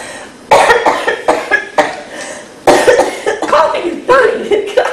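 Harsh bursts of coughing come up close during a live video game stream, some six to eight loud fits in ragged rhythm with short pauses between them, and no speech between the bursts.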